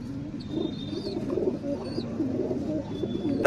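Steady low cooing from several pigeons nearby, a continuous murmuring warble with faint higher chirps now and then.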